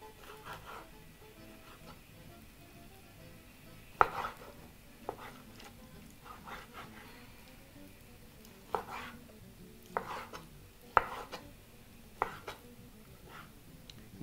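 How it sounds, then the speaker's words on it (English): Knife cutting liver into roughly one-inch cubes on a board, a series of sharp, irregular chops close by against a quiet kitchen background. "Cut the rest of the liver."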